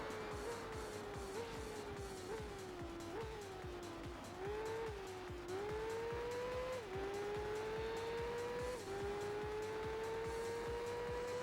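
A car in the Tourist Trophy racing video game corners hard, its engine droning continuously while the pitch dips and climbs through gear changes, with tire squeal mixed in.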